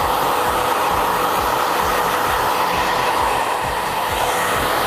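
A handheld hair dryer blows hair into curls during a CYA Express perm styling, giving a loud, steady, close-up rushing whoosh that runs unbroken for the whole stretch with no talking.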